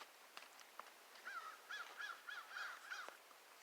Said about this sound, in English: And you hear some crows in the trees making a racket out there.